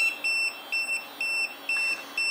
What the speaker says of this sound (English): It beeps and vibration and flash.